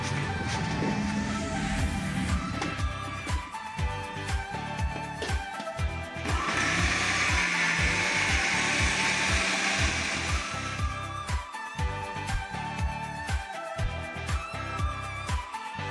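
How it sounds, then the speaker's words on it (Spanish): Steady motor whir of a blender mixing a creamy passion fruit dessert base with a splash of vanilla, loud and continuous with a rising, higher-pitched stretch in the middle, no talking. "Y voy a empezar a licuar."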